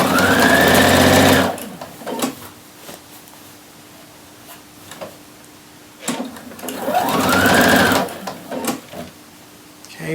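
A sewing machine stitches across the corner of a shirt collar in two loud bursts, each a second or two of steady rapid whir, with quiet handling pauses in between.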